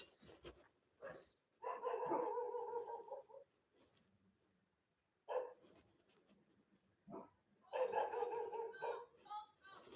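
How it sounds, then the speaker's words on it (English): Dogs bark in two separate bursts, a few sharp barks each, sounding somewhat distant and muffled indoors, with brief yips and a faint voice in the quiet gaps. "I think my dogs are in trouble, or my wife yelling at them."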